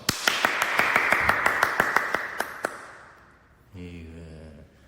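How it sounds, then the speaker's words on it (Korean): Sharp hand claps from an audience at a Chungcheong dialect contest performance, about a dozen evenly spaced strikes over two and a half seconds, then fading into quiet before a voice begins speaking. "우리 이 시점에서 위대한 연어를 위해서 거국적으로 박수 한 번 칩시다."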